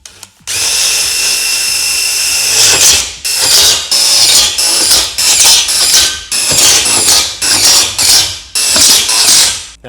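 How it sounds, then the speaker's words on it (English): Power drill loudly driving self-threading screws to fix a Vantech H1 ladder rack crossbar to its uprights on a Ford Transit, one long run followed by a series of short whirring bursts that rise and then cut off, close and alone. "we're gonna secure the crossbar to the upright with 2 of these self-threading screws per upright"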